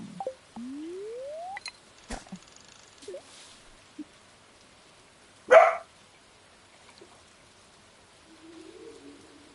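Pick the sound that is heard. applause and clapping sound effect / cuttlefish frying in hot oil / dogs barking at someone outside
dogs barking at someone outside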